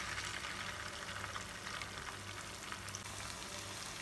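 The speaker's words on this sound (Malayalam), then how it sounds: "അപ്പം നമ്മുടെ എണ്ണയിലേക്ക് ഓരോന്നായിട്ട് നമുക്ക് ഇട്ട് കൊടുക്കാം" Chicken pieces for chicken 65 fry in hot oil, a dense, steady sizzle and crackle that stays close and loud for the whole stretch with no voices over it.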